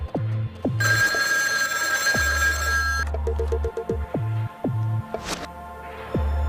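A telephone bell rings in repeated loud bursts at close range, each ring a bright, buzzing electronic trill, with pauses between rings and a low hum underneath.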